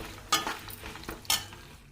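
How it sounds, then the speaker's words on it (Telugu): Dried red chilies fry in oil in a pan. A faint sizzle sits under two sharp scrapes of a spatula stirring against the pan, and there is no talking. "ఇప్పుడు ఇవన్నీ ఆయిల్లో వేపేసుకుంటాను ఫస్ట్ ఎండుమిర్చి ధనియాలు ఫస్ట్ ఎండుమిర్చి వేపేసుకుంటున్నాను"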